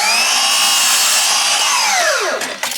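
Miter saw set to 30 degrees cutting a wood board, a loud close whine that holds steady then sweeps downward as the blade slows, followed by a brief rattle.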